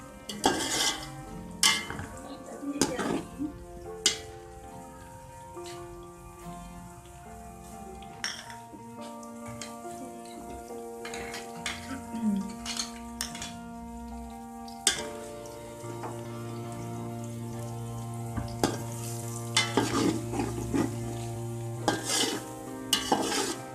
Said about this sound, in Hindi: इसको भी मिक्स कर देंगे। इसको 1-8 मिनट के लिए हम फ्राई कर लेंगे।